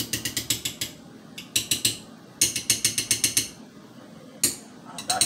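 A manual can opener works around a can lid, giving close, loud bursts of rapid ratcheting clicks in several runs separated by short pauses.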